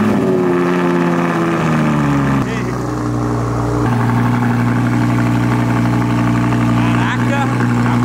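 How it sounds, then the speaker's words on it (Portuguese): Audi R8 V10 with carbon parts, aftermarket exhaust and filter idling close by, a loud steady rumble that shifts pitch twice as revs settle, running continuously with people talking over it. "Motor de Lamborghini, né?"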